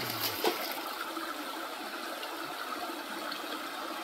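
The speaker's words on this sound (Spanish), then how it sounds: "Aquí está el arroyito." Small mountain creek with clear, clean water flowing steadily, a continuous close rushing and trickling wash with no talk over it.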